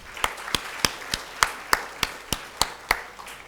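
A steady run of about ten crisp, evenly spaced claps at an inaugural ceremony of an innovation conference, loud and close, with no voices over them.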